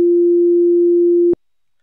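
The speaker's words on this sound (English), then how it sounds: "It will play a 2 second sine wave sound." A pure sine wave tone generated with SoX holds one steady, loud, unwavering pitch for just over a second and then cuts off abruptly into silence.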